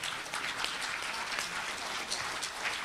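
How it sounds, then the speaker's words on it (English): Audience applause at a mental health and spirituality conference, a steady patter of clapping hands sustained evenly throughout the short stretch at moderate distance. "Can we give Reverend Cecil Williamson a round of applause again?"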